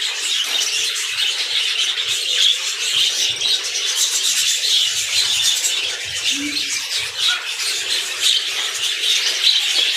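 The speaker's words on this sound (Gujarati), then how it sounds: "ચીડિયાઘર છે, બજરીઘર છે અહીંયા." Budgerigars in a zoo aviary at Indroda Nature Park, Gandhinagar, keep up a dense, steady chatter of high chirps and squeaks throughout, fairly close and continuous, with no clear pauses.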